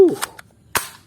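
A toy shotgun fires sharp, snappy cracks, one soft pop followed by a louder bang, heard close and dry after a brief electronic chirp.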